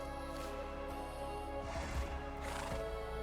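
A Minecraft horse whinnies loudly twice over a steady background hum, with soft hoof clops in between and no talking.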